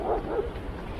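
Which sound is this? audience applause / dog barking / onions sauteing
dog barking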